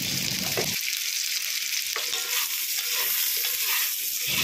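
Potatoes seasoned with salt and turmeric fry in hot oil, producing a loud, bright, continuous sizzle broken by occasional scrapes and stirs of a utensil in the pan, with no voices.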